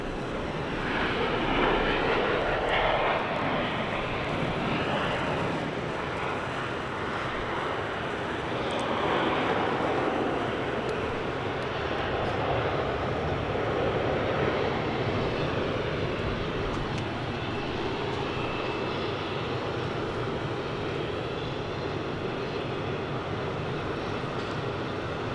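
Jet engines of a Singapore Airlines airliner lining up on the runway at Sydney Airport, a loud, steady roar and rumble holding for the whole stretch with no voices.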